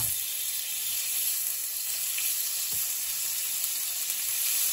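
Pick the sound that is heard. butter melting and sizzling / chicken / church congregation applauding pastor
butter melting and sizzling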